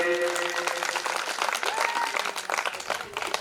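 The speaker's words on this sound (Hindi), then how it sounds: "जोरदार तालियां हो जानी चाहिए रामजी लाल जी के लिए" Audience applause for Ramji Lal at a devotional katha performance: dense, steady clapping from a crowd, fairly loud and continuous throughout, with a faint sustained tone underneath early on.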